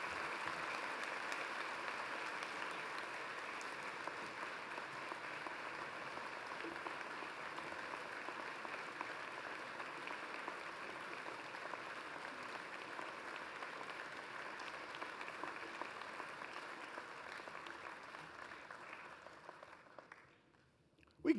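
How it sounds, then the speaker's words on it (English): A commencement audience gives sustained applause for an award honoree at a college graduation. Many hands clap steadily and dense at a moderate distance for about twenty seconds, then the sound thins out and fades near the end. "We can keep the applause going as she gets up on the stage."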